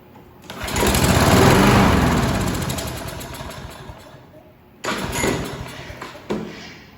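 Craftsman Platinum EZ Walk 7.25 190cc lawn mower engine running on seafoam, a loud steady drone that swells then fades over several seconds before two short revving bursts, close up.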